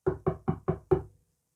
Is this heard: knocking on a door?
yes